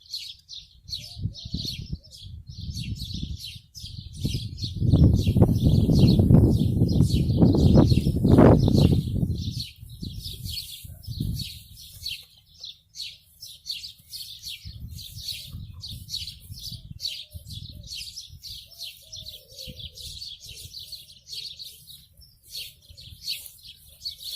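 Many birds in a large hawthorn hedge chirp and sing continuously in a busy chorus, while a low rumble swells in the middle and then fades back.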